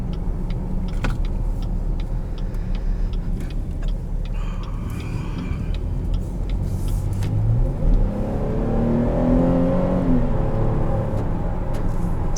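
A 2020 Chevrolet Blazer Premier engine hums steadily, then revs up and climbs in pitch as it accelerates, heard from inside the cabin with faint ticking.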